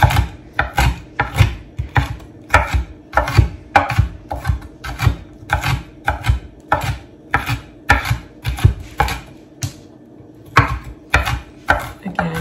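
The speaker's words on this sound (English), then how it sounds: "So I'm just gonna chop these up really well." Bell peppers being finely chopped with a knife on a cutting board for a veggie scramble, a steady run of loud, close, sharp chops in quick rhythm with a short pause near the end.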